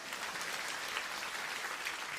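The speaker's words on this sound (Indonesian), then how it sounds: "Tepuk tangannya harusnya lebih hebat dari itu." A church congregation applauds a preacher's sermon in steady, dense clapping that holds at an even level for a couple of seconds, somewhat distant and without voices over it.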